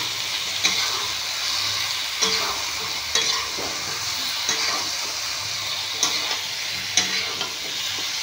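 Ground paste of turmeric, dried chili, cumin and mustard frying in a pan, giving a constant hiss and sizzle broken by a few utensil scrapes and knocks, with no talking.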